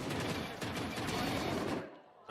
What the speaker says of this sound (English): Yep, all three sheriff shots are headshots.